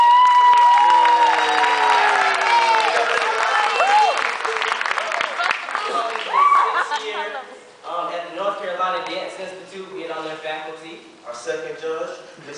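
An audience at a variety show claps and cheers as a judge is introduced; loud applause with whoops at first, then fading as a presenter's voice and other talk take over.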